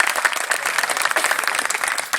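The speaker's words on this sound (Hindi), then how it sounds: "एक बार जोरदार तालियों से मुझे आशीर्वाद देना" Loud, dense audience applause at a Hindi comedy poetry recital, steady clapping from a large crowd throughout with no break.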